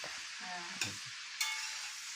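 Vegetables sizzle steadily as they are sautéed in a pan, with a couple of sharp scraping stirs cutting through the continuous frying hiss.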